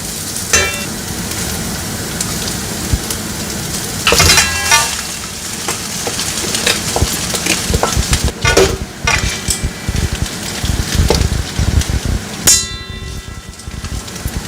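Noodles and spice powder are stirred in a pan while cooking paneer tikka noodles, giving a steady scrape and sizzle with sharp utensil clicks against the pan throughout.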